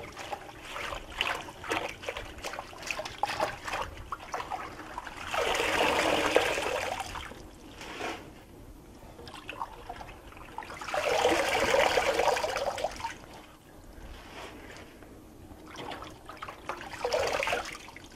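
Tap water runs in two bursts, each lasting several seconds, as a batch of spinach is washed in a kitchen sink; quieter trickling and handling sounds come between and after the bursts.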